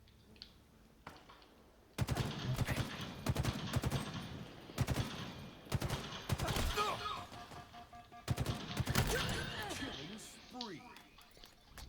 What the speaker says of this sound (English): Battle rifle's nice and beefy